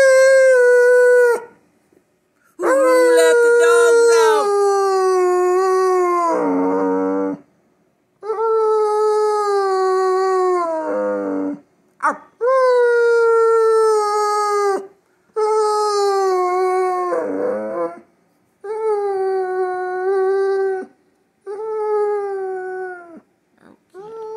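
A German Shepherd howls in a series of long, wavering cries separated by short pauses, loud and close, with occasional whimpery breaks.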